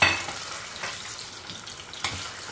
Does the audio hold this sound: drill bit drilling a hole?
no